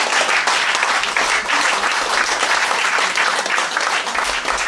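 A large audience applauds steadily after a Dongnae crane dance performance, dense clapping filling the space at a consistent loudness for several seconds, with no speech over it.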